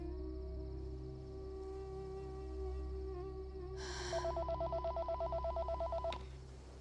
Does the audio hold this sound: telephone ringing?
yes